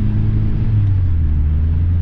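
A 1988 VW Gol GTS climbs a mountain road at night, heard from inside as a loud, steady engine drone with deep rumble and constant road roar, no voices.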